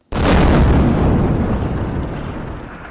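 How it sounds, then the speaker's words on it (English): Explosions from Israeli airstrikes on Beirut's suburbs, a sudden loud blast that erupts and rumbles on, with a broad roar slowly decaying and a faint secondary pop partway through. "Explosions are heard in Beirut as Israel's military targeted several sites in the capital suburbs."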